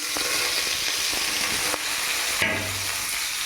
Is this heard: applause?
no